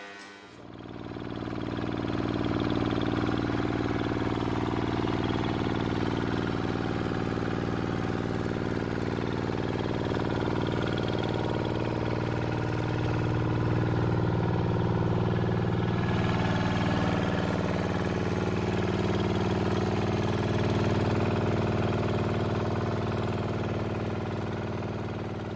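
A diesel engine powers a Ugandan-made chicken pellet making machine, droning loudly and steadily for the whole stretch with a constant mechanical hum and no talking.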